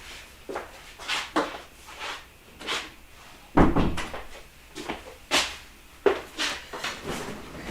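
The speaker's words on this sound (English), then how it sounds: "let me just shut the door" A door is shut indoors amid a series of knocks, bumps and shuffling thuds, with one heavier dull thump in the middle and no clear talk.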